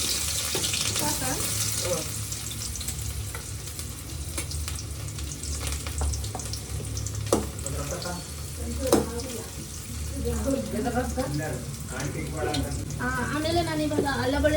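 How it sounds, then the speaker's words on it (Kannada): Onions hitting hot oil and frying in a pan, a busy crackling sizzle with stirring clatter, while a person talks over it toward the end. "ನಾನಿವಾಗ ಆನಿಯನ್ ಹಾಕ್ಕೊಂತಿದ್ದೀನಿ. ಆಯಿಲ್ ಬಿಸಿ ಆಗಿದೆ ನೋಡಿ ಹಾಕ"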